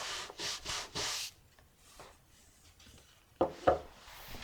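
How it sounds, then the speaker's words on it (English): A stiff brush scrubbed over freshly dyed leather boots, heard as a few short bursts of rough bristle rubbing, then a quiet gap and two brief sharper strokes near the end. "We'll hit it with a brush."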